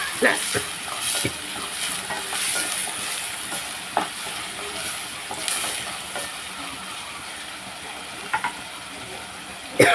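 Tomato pieces frying in a pan, a steady close sizzle broken by intermittent scrapes and clinks of a spoon stirring, with a few sharper knocks and a louder clatter at the very end.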